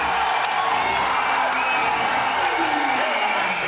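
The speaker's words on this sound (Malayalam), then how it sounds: "പൂവിട്ടും പാലൊഴിച്ചും കൂകി വിളിച്ചും ആവേശത്തോടെ ആരാധകർ സീറ്റ് പിടിച്ചു" Movie fans cheer, whoop and hoot together inside a darkened cinema at an opening screening of the film Jilla, a dense, loud crowd roar that holds steady throughout.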